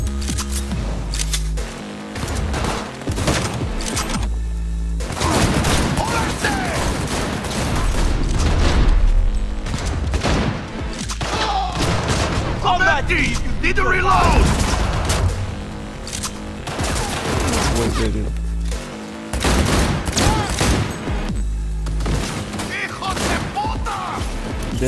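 Dense, rapid gunfire from the video game Cyberpunk 2077 crackles through most of the stretch in loud, repeated bursts, with a voice speaking over parts of it.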